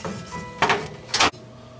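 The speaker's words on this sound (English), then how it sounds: "Lucky enough to have a removable door. Remove your door." A removable door on a CO2 laser cutter is lifted off, giving two short scraping, sliding bursts of metal against the frame over a steady machine hum.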